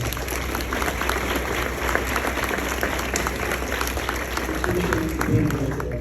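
Audience applause at a leadership development session, sustained dense clapping for the whole stretch, with a voice briefly emerging near the end.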